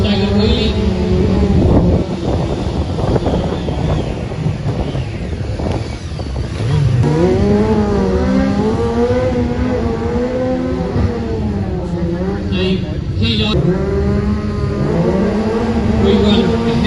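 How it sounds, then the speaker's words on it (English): Motorcycle engine at an outdoor custom classic motorcycle stunt show, revving and rising and falling in pitch through a staggered wheelie, loud and continuous with wind noise and a voice talking over it. "Keep your weight up the bike, and that's what we call a staggered wheelie."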